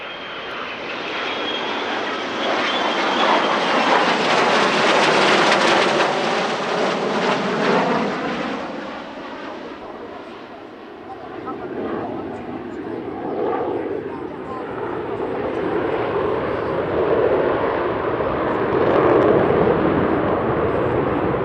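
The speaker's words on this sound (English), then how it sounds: "They are flanked by 2 Typhoons and a trio of F-35 Lightnings." Military jets at the Italian Air Force centenary airshow, a formation of Typhoons and F-35 Lightnings flanking E-550 early-warning aircraft, roar past loudly with a swelling, sustained engine rumble that peaks, dips and rises again as they pass.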